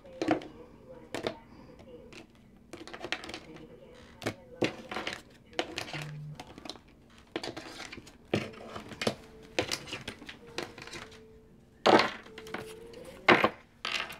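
A tarot deck being cut and shuffled during a card reading: repeated soft card slaps and thuds in irregular bursts, close by, with a voice speaking faintly in the background between them.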